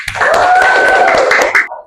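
Classmates clap for a group's performance in a classroom teaching exam, a burst of scattered, fairly loud claps mixed with voices for under two seconds before fading out.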